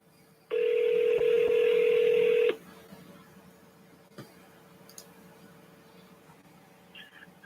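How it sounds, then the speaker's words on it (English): A telephone dialing out to a caller, one loud steady tone lasting about two seconds, then quiet line noise with a few faint clicks and a distant voice. "Let's get it ringing. Let's get that first ring going."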